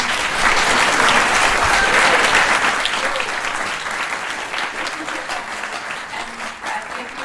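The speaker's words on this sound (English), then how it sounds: "Maybe we can do one last round of applause for her." Sustained applause from an audience at a film club discussion event, a steady dense patter of many hands clapping that stays loud for several seconds and then slowly tapers, with a faint voice underneath.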